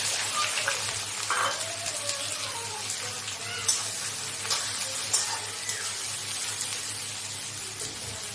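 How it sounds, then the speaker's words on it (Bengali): Chopped onions sizzle in hot oil in a kadai wok, a steady close frying hiss broken by occasional sharp crackles and pops. "তেল গরম হয়ে গেছে। এবার কুচনো পেঁয়াজগুলো আমি এতে দিয়ে দিলাম।"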